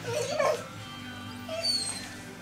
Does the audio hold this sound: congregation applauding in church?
no